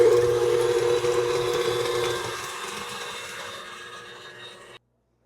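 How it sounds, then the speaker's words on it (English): A stand mixer beats butter on high speed, giving a loud, steady motor whine with a constant pitch. The motor settles lower partway through, then cuts off abruptly near the end. "I have 1 cup of butter in here that I'm going to beat for about 2 to 3 minutes on high"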